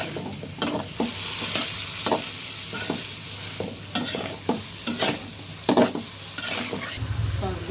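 Close, loud sizzling of chilli chicken stir-frying in a pan after homemade tomato sauce is added, with repeated scraping stirs of a spatula against the metal in an uneven rhythm.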